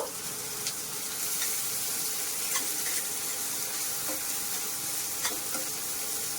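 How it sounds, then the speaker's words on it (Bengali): Onions fry in a pan with a dense, steady sizzle close up, broken now and then by light scrapes and taps of a stirring spoon. "পেঁয়াজটাকে ভেজে নেব"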